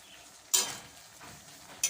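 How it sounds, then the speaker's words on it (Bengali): Black mustard paste simmers in a wok, giving a quiet, steady sizzle broken by two brief, louder hissing spurts. "সরিষা বাটাকে কিছুক্ষণ ফুটতে দিচ্ছি।"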